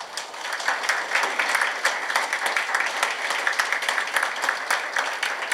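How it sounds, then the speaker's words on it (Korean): Warm, steady applause from staff at a district office executive meeting, many hands clapping continuously and evenly for several seconds with no speech. "뜨거운 박수 부탁드리겠습니다"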